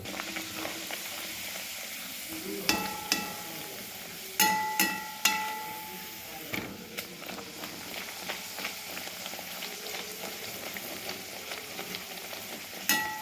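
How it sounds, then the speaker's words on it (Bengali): Hing kachoris frying in oil give a low, steady bubbling sizzle, broken by sharp metallic clinks and taps of a slotted spoon against the pan at irregular intervals. "এইভাবেই প্রত্যেকটা কচুরিকে আমরা ভেজে ভেজে নেব"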